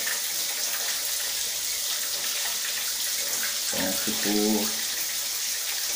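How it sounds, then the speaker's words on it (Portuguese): Water runs from a shower after its valve is opened, a steady broad hiss of spray filling the whole stretch at even loudness, with a voice speaking briefly over it near the end. "Tá caindo água normal ali."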